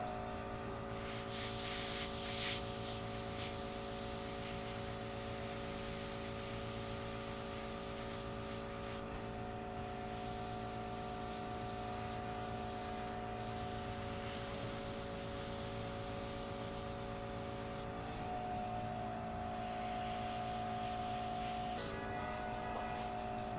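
Spray hisses steadily and close up as paint is applied during special-effects makeup, with a couple of short breaks in the flow and no talking.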